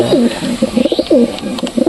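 A pigeon coos loud and close in several rolling, bubbling phrases, each swooping down in pitch, repeated in a quick rhythm.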